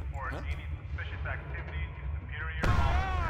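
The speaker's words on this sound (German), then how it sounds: "Das ist ein Flashbang." A flashbang grenade going off in the video game Far Cry, a sudden loud bang near the end followed by a high ringing tone, after a stretch of in-game noise.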